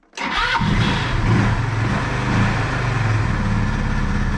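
A Chinese YB-150 scooter engine cranks and catches within a fraction of a second, then settles into a loud, steady close-up idle with a slight throttle blip.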